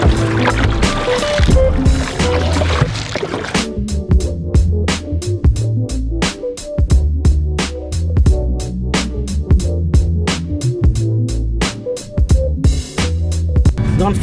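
Kayak paddle strokes on a lake, a steady rhythm of splashing dips and water swishes close to the boat, loud and continuous with wind rumble underneath and no speech.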